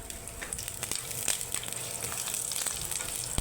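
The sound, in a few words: ginger frying in cooking oil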